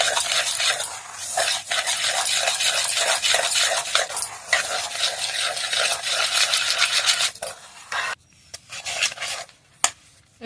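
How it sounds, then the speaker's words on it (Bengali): Semolina and curd are whisked together in a bowl, a close, continuous scraping swish that stirs on with a steady rhythm, then breaks into shorter strokes and pauses near the end. "প্রথমে সুজিটা আর দইটা ভালো করে ফেটে নেব।"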